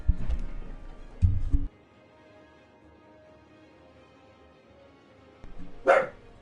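Dogs bark in short bursts at a home during a city-building game session: a loud cluster at the start, another just after, then a pause before a final sharp outburst, with no talking.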